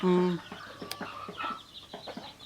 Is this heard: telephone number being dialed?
no